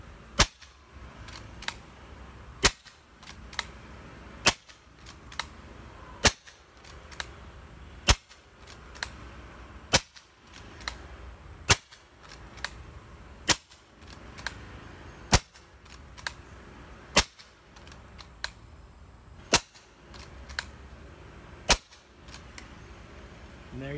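Kral Puncher Breaker PCP air rifle, fitted with an MKIII valve kit and firing SSG on a 3000 PSI fill at medium power, shooting a steady string of about sixteen sharp cracks roughly every 1.5 seconds.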